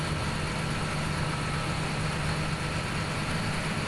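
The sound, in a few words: John Deere 8370R tractor engine in Farming Simulator 17, a video game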